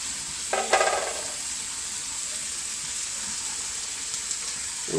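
Spices sizzle in a pan for ghee rice as coriander and curry leaves are stirred in, with a brief louder burst of crackling near the start, then a steady low frying hiss.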